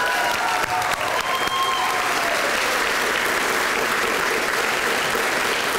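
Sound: audience applause at a graduation ceremony

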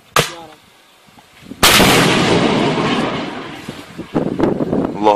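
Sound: TOW anti-tank missile being launched

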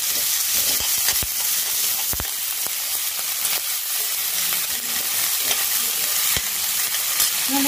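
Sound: cabbage sautéing with garlic and onion in a pan

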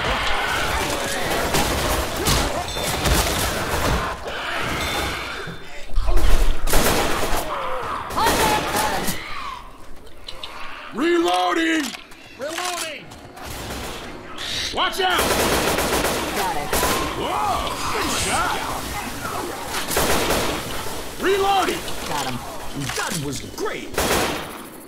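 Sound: gunfire in the video game Left 4 Dead 2

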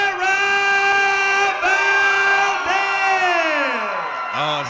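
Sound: crowd cheering for winner at boxing fight night

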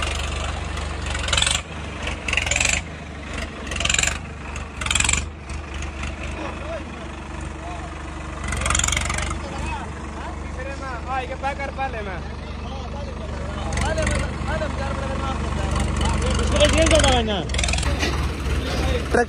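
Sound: tractor engine pulling a trolley

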